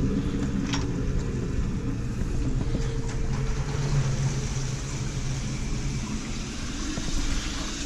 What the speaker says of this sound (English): Sump pump had to prime itself, sounds like.